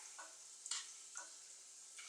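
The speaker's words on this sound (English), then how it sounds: "stir that up, helps it heat up a bit quicker" A spoon stirs chilli con carne frying in a pan, giving a few soft scraping strokes in a slow, irregular rhythm over a faint, steady sizzle, close and quiet.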